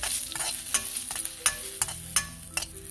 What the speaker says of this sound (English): Now we'll add sesame seeds. Let's fry them properly.